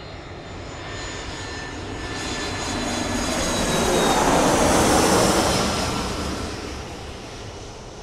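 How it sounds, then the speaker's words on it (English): A jet plane's engine roars as it passes, a steady drone that swells to a peak near the middle and then fades, with a whine running above it. "we're leaving on a jet plane to Buenos Aires, Argentina"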